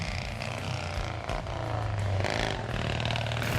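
A Morgan car with a race-prepared 1096cc Blackburn V-twin engine revs close by, a loud, throbbing roar with rising and falling pitch and a little rattle.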